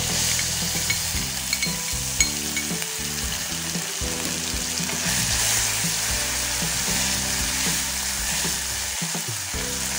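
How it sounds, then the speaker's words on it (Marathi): Tomato fries in hot oil with asafoetida and mustard seeds in a pan, giving a loud, continuous sizzle with occasional stirring scrapes and no voices. "टोमॅटो चांगलं परतून घेऊया।"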